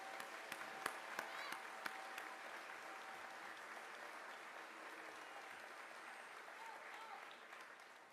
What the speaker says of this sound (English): So give yourself a round of applause for all the work that you've done in elementary school.